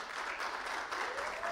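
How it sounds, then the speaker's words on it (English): Groups of people clap loudly together, a dense, continuous wash of applause that fills the whole brief moment without pause. "So group 2 and group 1 clap loudly."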